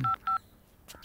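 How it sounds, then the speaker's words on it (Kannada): A phone keypad gives two short, evenly spaced beeps as a number is dialed, followed by a faint click. The tones are brief and fairly quiet. "ಆ ನಂಬರಿಗೆ ಫೋನ್ ಮಾಡಿ."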